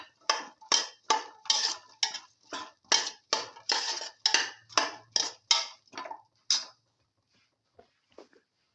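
A spoon scrapes and clinks rhythmically against a pot while mixing a potato, coconut and fenugreek leaf stew, with about fifteen quick, even strokes and then a couple of faint taps after a pause.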